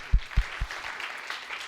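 Applause from a conference audience for the panelists at a session on global water governance, starting with a few distinct claps and settling into a brief, fairly quiet patter of hand-clapping with no talk.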